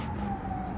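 An ambulance siren sounds outside, a steady wailing tone heard fairly loud over low rumbling traffic noise throughout the short moment.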